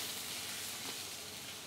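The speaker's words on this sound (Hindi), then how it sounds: "हमने एक टेबलस्पून ऑयल को गर्म करने के लिए रखा है, जिसमें 2 टीस्पून भरकर चॉप किया हुआ लहसुन मिलाएंगे।" Two teaspoons of chopped garlic in a tablespoon of hot oil give a steady, soft, close sizzle with no pauses and no talk.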